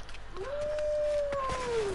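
A wolf in the video game God of War Ragnarok gives a single clear howl that rises, holds steady and then slides down, with a brief second tone partway through, over a low hum.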